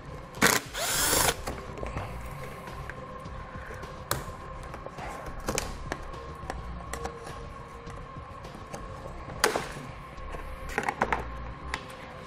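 A power drill works on fasteners under a 2017 Ford Edge in short bursts, with a couple of loud whirring spurts separated by quieter stretches of tool handling and clicks nearby.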